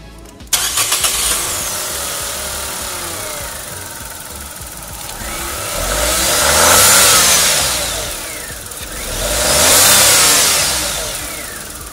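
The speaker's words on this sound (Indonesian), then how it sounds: "Dan ini pun turbonya itu suaranya itu kayak turbo mesin diesel." A Nissan Magnite's turbocharged engine starts with a rough crank, idles steadily, then revs up twice in long rising swells with a whistling turbo whine, each easing back down.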